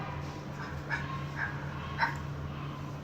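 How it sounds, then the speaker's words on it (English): A dog barks a few times in the distance, short muffled yaps spaced apart over a steady low hum. "Can you hear the dog barking?"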